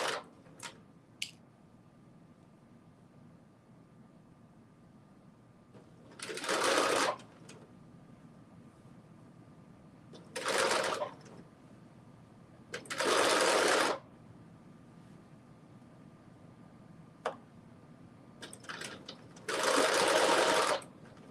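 A sewing machine runs a long basting stitch in four short bursts of rapid, even needle clatter, each lasting about a second, with quiet pauses and small handling clicks between them.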